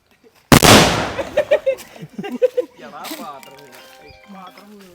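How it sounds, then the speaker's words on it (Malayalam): A single loud firecracker bang bursts close by at a neighbourhood wedding, followed by people talking and laughing as it fades. "പടക്കം പൊട്ടിയല്ലേ"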